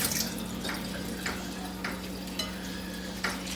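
Water is poured off smoked herring fillets as they are squeezed by hand, giving a few short wet splashes and drips over a steady low electrical hum.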